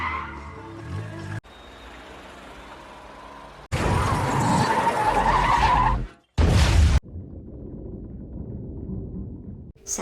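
A film car chase, cars from the KGB pursuing a stolen police car, with loud bursts of skidding tires and revving engines broken by abrupt cuts and quieter stretches of rumble.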